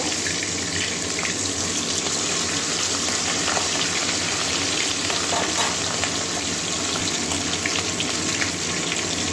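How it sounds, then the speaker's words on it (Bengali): Katla fish head frying in oil, a steady dense sizzle and crackle running loud and unbroken throughout, with no voices over it. "দুদিকেই হালকা লাল লাল করে ভেজে নেব"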